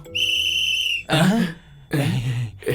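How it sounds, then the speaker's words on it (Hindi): A sharp, sustained whistle blast at a rehearsal, held for about a second, followed by two bursts of noisier, breathy sound. "सीटी बज गई पर वो क्यों नहीं आई?"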